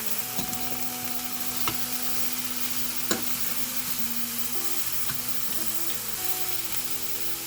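Food frying in a pan with a spray of olive oil, a steady close sizzle running throughout with a few sharp clicks and stirring knocks from utensils.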